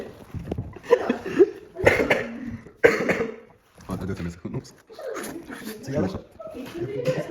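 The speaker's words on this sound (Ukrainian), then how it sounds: "Не кашлячи." Several sharp, close coughs and throat-clearing bursts come in uneven clusters, mixed in with people talking nearby.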